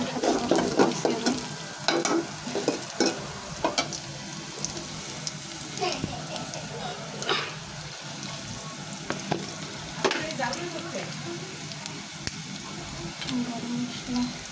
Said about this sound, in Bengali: আর বেগুনটাও ভাজা ফেলেছি, মুরগির মাংসটা বসাই দিয়েছি আমি